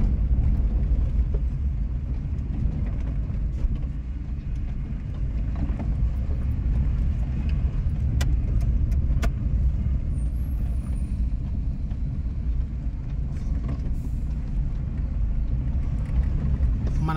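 A vehicle rolls slowly along a damaged forest ghat road between Srisailam and Athmakuru at night, giving a steady engine rumble and road noise throughout with occasional faint rattles.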